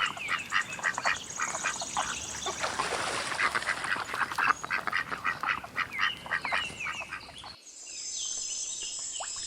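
A duck quacks in a long run of quick, close, loud calls, with honking bird voices mixed in and no speech.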